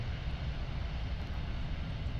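An Airbus A380 with four Rolls-Royce Trent 900 turbofan engines landing at Birmingham Airport, heard as a steady, deep, broadband engine roar filling the whole moment, with no pauses and no talking.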